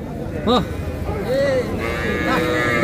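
A young desi calf for sale at a cattle market moos twice in short, nearby calls, one brief and one slightly longer, over a low murmur of background voices and market noise.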